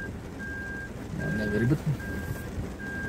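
Reversing beeps from a Daihatsu Rocky sound as a steady chain of evenly spaced electronic tones, four pulses repeating at a regular pace, with someone talking briefly over them inside the car.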